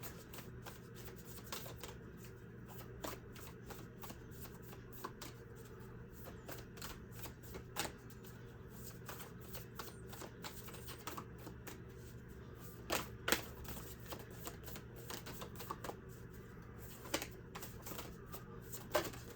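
Playing cards are shuffled over and over in a quiet room, a dense run of soft riffling clicks and flutters that keeps on steadily, with sharper snaps and taps now and then, close up and fairly faint.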